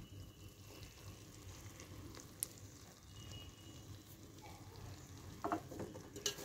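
Curry leaves bubbling in oil in a pan on a gas stove, a soft continuous sizzle and faint crackle with occasional louder pops and a small clink, quiet and steady, no talk.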